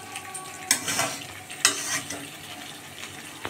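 Goat meat sizzles and scrapes in a hot pan, with a couple of sharper stirring clatters and a steady crackle underneath.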